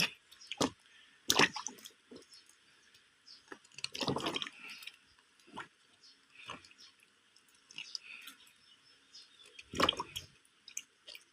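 Puffball mushrooms being rinsed by hand in a basin of water give scattered close splashes, drips and squishy sloshes at irregular intervals, quiet overall with brief louder bursts.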